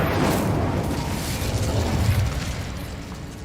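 An Incendio fire spell from Hogwarts Legacy gives a steady, loud roaring whoosh of flame that holds for several seconds without a break.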